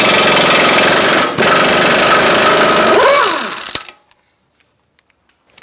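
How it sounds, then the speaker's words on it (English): A power tool with a 32mm socket loosens the axle nut on a 2012–2018 Ford Focus, hammering loudly and continuously for several seconds before stopping abruptly into near silence. "we're going to remove our axle nut."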